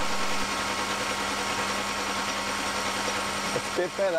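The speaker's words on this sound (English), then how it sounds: "For the finishing cut, I turn the lathe up to top speed and use the PCD insert again." A metal lathe spinning at top speed takes a finishing cut with a PCD insert while making an expanding lapping tool, giving a steady machine drone with a constant hum that continues evenly before a brief disturbance near the end.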